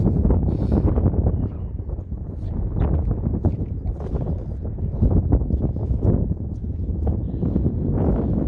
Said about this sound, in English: it is pretty cold and windy.